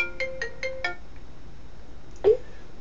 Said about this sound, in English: And again it's ringing me again.